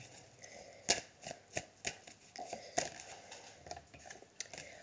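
Oracle des Miroirs cards being shuffled in close, dry riffling bursts with a few sharper snaps, repeating unevenly with no voices.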